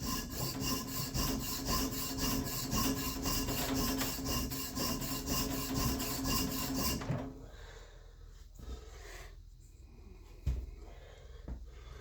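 An EDC knife is sharpened with rapid, steady, rhythmic rasping strokes for about seven seconds, then the scraping stops and it goes quiet apart from a faint knock.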